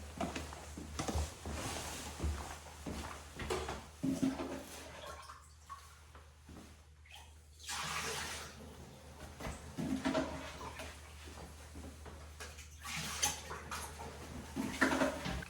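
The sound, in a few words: scooping water out of a toilet bowl by hand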